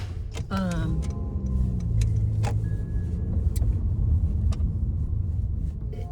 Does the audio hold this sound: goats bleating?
no